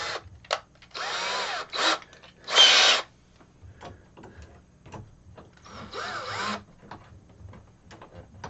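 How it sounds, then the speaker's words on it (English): A power drill works into a rock in short, uneven bursts of whining motor, with a few quick pulses, one louder burst, then a longer run after a pause, close up and otherwise quiet. "I have to go back to the drill bit and take it out a little bit."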